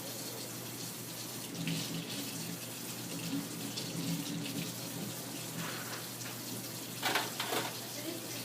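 Cool-to-warm tap water runs steadily as instruments from an ultrasonic cleaner are rinsed, a continuous wash with a few brief louder splashes near the end.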